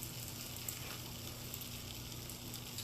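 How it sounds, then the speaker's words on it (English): A cheese chaffle cooking in a waffle iron gives off a faint, steady sizzle with a soft constant hiss and light crackle throughout, and no voices. "And we're going to cook it."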